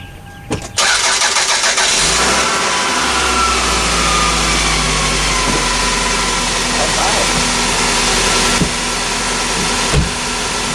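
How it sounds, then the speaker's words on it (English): A 2001 Toyota Camry engine cranks briefly and catches, then settles into a loud, steady idle close by, with a couple of faint knocks near the end. "It just cranked up."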